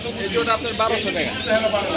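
Racer pigeons cooing at a busy Jinjira pigeon market, soft throaty coos set against steady crowd chatter and voices talking nearby.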